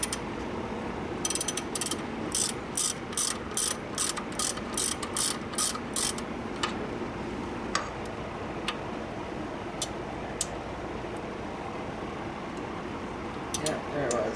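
A ratchet wrench clicks in quick bursts while loosening a belt tensioner on a Ford Ranger during power steering pump work, the rapid ticking near and sharp, then fading to sparse clicks and background hum.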